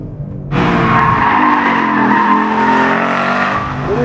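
Ford Mustang Boss 302 racing at Laguna Seca, a loud sustained engine roar under load with tire squeal, continuous and close for about three and a half seconds after a brief quiet start.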